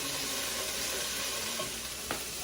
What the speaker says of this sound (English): Arrange them in a layer like that all along the bottom of the pan to sear them up on each side.